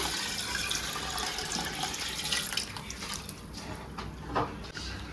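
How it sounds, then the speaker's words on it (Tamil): Water splashes and pours steadily into a pot of rice for biryani, a continuous hissing trickle with a few brief clinks near the end. "இப்போ இதில் வந்து அரிசிக்கு டபுளாக தண்ணி எடுத்துருக்கிறேன். எடுத்து இதோட சேர்த்து"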